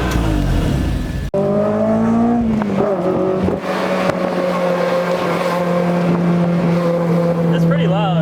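Honda S2000 fitted with an HKS Hi Power exhaust revs loudly and close by, with a sharp start, rising and falling engine pitch, then a steady high-rpm drone held to the end.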